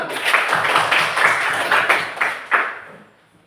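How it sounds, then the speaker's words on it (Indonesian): Classroom applause after a group presentation: a brief burst of scattered hand claps from students, moderately close, tapering off into quiet. "Tepuk tangan."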